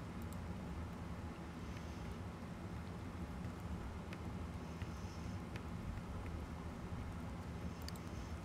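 Steady rain falling in The Sims 2, heard as a constant, even wash of patter with a low rumbling bed and occasional faint ticks, alone without speech.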